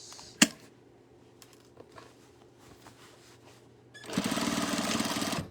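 Sewing machine running a back stitch on a tote bag, a quiet lead-in with small clicks before a steady, loud mechanical whir takes over for the final second and a half.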